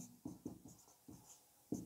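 Chalk or marker strokes on a board during a grammar lesson, heard as about six short, distinct scratchy taps in an irregular rhythm, close and fairly quiet, with no voice.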